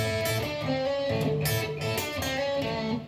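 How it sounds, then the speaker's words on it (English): A lead riff on an electric guitar, using the back pickup with light overdrive, gives sustained, slightly gritty notes in a short melodic phrase, close and alone. "if you put a little bit of overdrive on it, back pickup, you get this."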